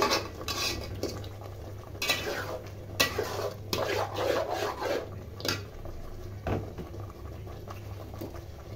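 Raw mango pickle being stirred in a pan, repeated scraping and clinking of a utensil against metal in an irregular rhythm, close and moderately loud over a low steady hum.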